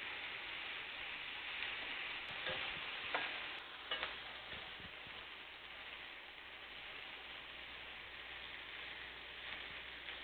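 Chicken pieces sear in a pan for a garlic chicken and rice dish, a faint, steady crackling hiss with a few soft pops and clinks.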